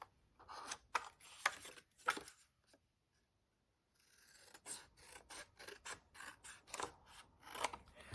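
Scissors cutting paper for a Christmas pop-up card: close, crisp snipping in quick clusters, a short silent pause, then more rapid cuts, quiet and alone.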